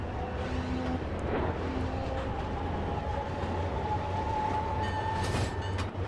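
A train runs steadily along the rails of the East Point Branch past a road crossing and over a switch, a continuous rumble with a faint tonal hum and a brief squeal near the end, no talking.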